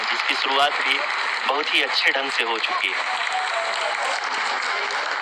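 Broad, steady applause fills a mission control room during the Chandrayaan-3 lunar landing, continuous throughout while someone speaks over it in Hindi.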